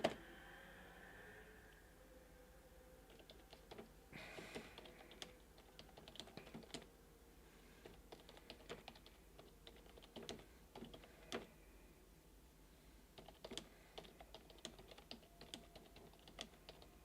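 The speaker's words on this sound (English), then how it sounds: "Talk amongst yourselves while I type like a furious madman." Rapid, irregular typing on a computer keyboard, with bursts of close key clicks over a quiet background during a GTC HyPrix BMW Cup sim racing broadcast lobby.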